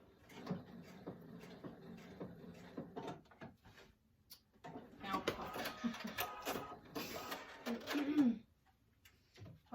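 A sewing machine stitches continuously around a fabric composition book cover, a rapid mechanical whirring and clatter in bursts with a short pause midway, fairly close and moderately loud.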